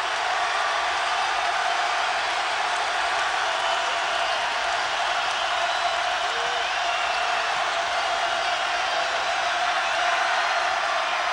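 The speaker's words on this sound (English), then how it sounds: "Listen to the crowd." A basketball arena crowd at a Pitt Panthers versus West Virginia Mountaineers college game in 2007 keeps up a loud, steady roar of cheering throughout, with no clear breaks.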